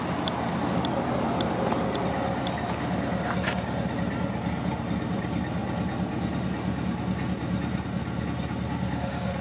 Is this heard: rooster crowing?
no